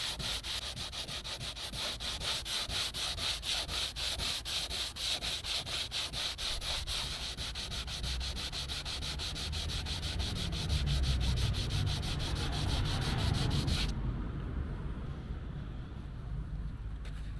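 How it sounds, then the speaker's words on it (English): Hand sanding a plastic Citroen Xsara Picasso bumper in one direction, a close, steady rasp of repeated strokes that continues throughout and stops near the end. "I'm just sanding it all in the same direction"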